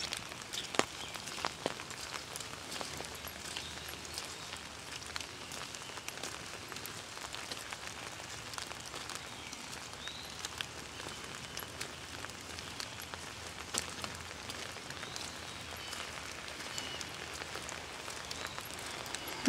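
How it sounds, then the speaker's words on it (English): Steady rain patters on a surface, a soft continuous hiss dotted with individual drop ticks, with no voices. "I love the sound of the rain."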